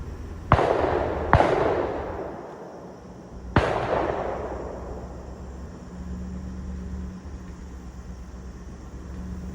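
Three loud gunshots ring out from a park shooting range, each a sharp crack with a long echoing tail across the open grounds, over a steady low outdoor hum.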